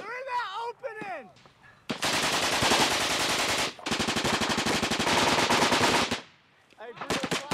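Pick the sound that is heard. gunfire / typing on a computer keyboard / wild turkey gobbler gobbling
gunfire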